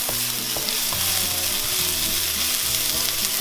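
Garlic and ginger frying in a pan for a tomato pasta sauce, a dense, even sizzle close up with occasional soft stirring knocks underneath.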